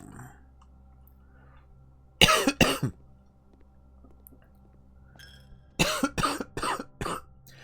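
Two bursts of coughing close to the mic, a double cough and then a longer fit of several coughs, with quiet pauses between.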